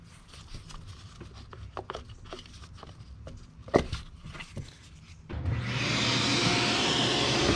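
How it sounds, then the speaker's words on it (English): Quiet tapping and clunks of work on a 2.0L Ford Escape engine give way to a vacuum cleaner switching on and running steadily and loudly, cleaning out the spark plug wells. "Now that I got it vacuumed out"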